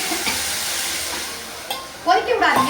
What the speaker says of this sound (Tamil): இதையும் அப்படியே கொஞ்சம் எண்ணெயில் அந்த பச்சை வாசம் போகிற அளவுக்கு நல்லா வதக்குங்க